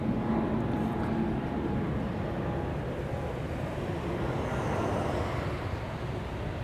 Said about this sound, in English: A321neo from KLM. On its way to Zurich.